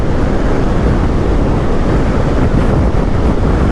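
Strong crosswind buffets the microphone while riding a BMW R1300GS motorcycle, a loud, constant broadband roar filling the whole stretch with no talking.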